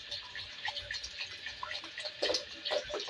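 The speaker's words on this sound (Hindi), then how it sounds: "ये अब हम ना इसमें पानी डालते हैं।" Filtered water poured into a pot of boiling vegetables for a mixed vegetable pulao, giving a soft, steady splashing and trickling close by, with no voices.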